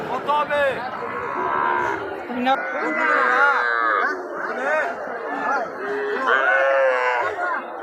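A young milk-fed calf moos several times, close by, its calls overlapping with a crowd talking nearby at a cattle market in Dhamoirhat.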